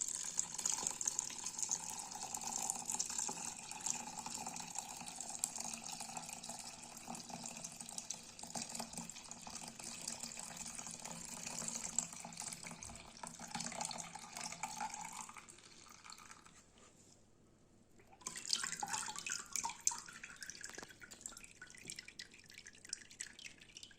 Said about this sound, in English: We separate the water with a strainer.